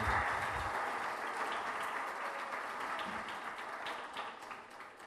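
Audience applause welcomes a chef onto the stage at a lecture event, a dense steady wash of many hands clapping that fades slightly toward the end, fairly faint.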